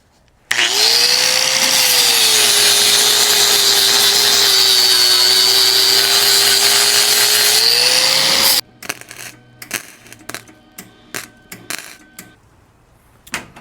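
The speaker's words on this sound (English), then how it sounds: "Now I'm gonna hopefully grind this off and I can see the Swiss cheese" An angle grinder grinds down welds on a Chevy squarebody door, a loud, continuous, high whining rasp that lasts about eight seconds. The grinder then stops and is followed by scattered light taps and clanks.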